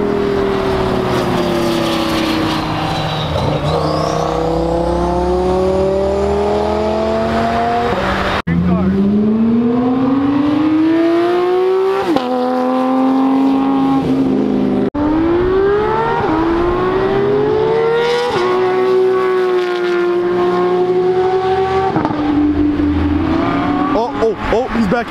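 A Porsche Carrera GT at a car meet revs and accelerates hard through several gears, its loud engine note rising and falling in repeated sweeping pulls, close and dominant for the whole stretch with a brief tire squeal and voices faintly underneath.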